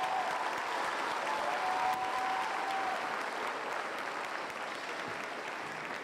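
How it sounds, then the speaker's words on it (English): Steady crowd applause fills a youth fair hog showmanship arena, dense and continuous clapping holding at an even level for about six seconds with no voices over it. "Give them all a huge round of applause."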